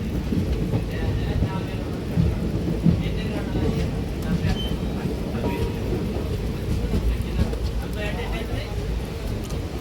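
Rain drums steadily on a moving train hauled by a WAG9 locomotive, a loud low rumble of wheels and downpour throughout, with people talking over it.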